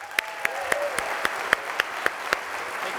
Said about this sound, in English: let's give all the winners and competitors a round of applause